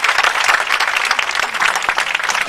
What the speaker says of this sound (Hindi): इन दोनों के लिए भी जोरदार ताली बजाइए।